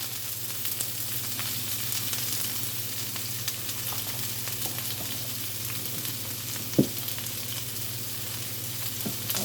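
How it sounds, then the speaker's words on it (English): Food sautéing in a pan with onion powder sprinkled on, for a five-bean chili, gives a steady close sizzle with a low hum beneath and one brief clatter of stirring near the end. "Okay, we're going to saute them. We're going to put a little onion powder on them."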